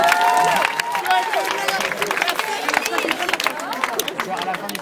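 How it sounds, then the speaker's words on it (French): An audience at a French comedy sketch show applauds, a dense patter of clapping mixed with crowd murmur that starts loud and continues steadily, with a voice speaking over it. "On peut l'applaudir."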